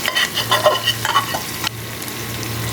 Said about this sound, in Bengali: এখন এই মাংসটাকে আমি সব কিছুর সাথে মিশিয়ে ভালোভাবে এটাকে ভাজবো